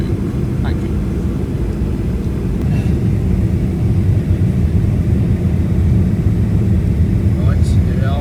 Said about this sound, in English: here we are going down on the final approach